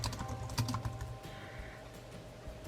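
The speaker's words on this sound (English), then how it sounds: "And then you just continue typing." Typing on a computer keyboard, a quick run of clicky keystrokes close by, dense at first and then thinning out into a quieter stretch, with no talking.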